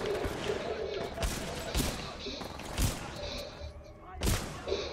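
Heavy shotgun blasts in Titanfall 2 ring out as several sharp booms a second or so apart amid busy in-game combat noise, with someone talking over parts of it.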